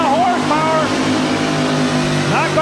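A two-wheel-drive pulling truck at a 1989 Bowling Green, Ohio truck pull roars loudly as it hauls the sled, engine tone rising and wavering, with an announcer talking over it throughout.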